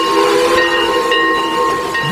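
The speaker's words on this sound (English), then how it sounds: "This is what it looks like inside the engine of a diesel-electric train." Inside the engine room of a diesel-electric locomotive, a loud steady machine drone runs throughout with a constant high hiss and sustained tonal hum, no speech.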